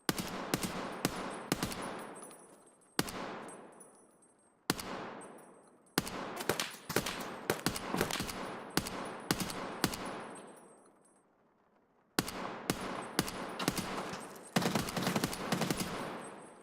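Gunfire in Escape From Tarkov, with bursts of rapid automatic shots and sharp single cracks separated by short pauses. Each volley leaves a ringing decay, the shots are loud and close, and no one speaks.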